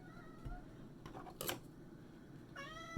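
A pet cat meows in a home kitchen, several close, rising-and-falling calls that open the moment, return briefly in the middle and close it, over a quiet room background.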